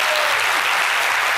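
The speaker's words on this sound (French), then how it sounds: "Si vous êtes d'accord avec moi, on les applaudit très fort." A television studio audience at a midday talk show breaks into loud, dense applause for the program's columnists, steady clapping throughout.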